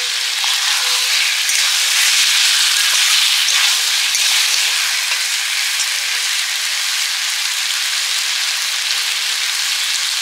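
Chilies and spices fry in a pan, giving a loud, steady, close sizzle that goes on without a break and has no talk over it.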